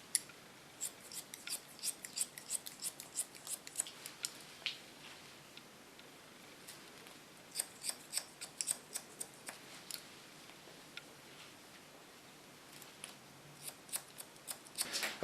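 Scissors snip hair during a short haircut, giving quiet, crisp, closely miked clicks in irregular bursts and pauses against a near-silent background.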